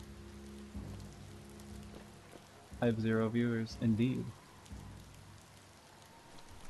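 Rain falls steadily in the video game Biomutant, a soft pattering hiss running under the clip while someone talks briefly over it.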